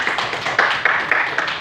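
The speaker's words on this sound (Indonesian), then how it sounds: "Oke, tepuk tangan." Students in a classroom clap together in a short, rhythmic burst of a few loud, close claps.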